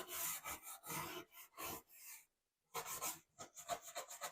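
A wire bristle brush scrubs tile grout in quick, raspy back-and-forth strokes, close and dry, with a brief pause midway before the scrubbing resumes.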